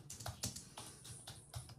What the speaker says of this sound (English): I hear Marty's keyboard.